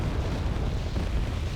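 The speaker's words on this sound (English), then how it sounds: "Enemy hitting themselves with their own AA or artillery." Artillery explosion in the Wargame: Red Dragon strategy game, set in a Second Korean War campaign: a continuous, loud, low rumbling blast with dense bass that holds steady throughout, with no talking.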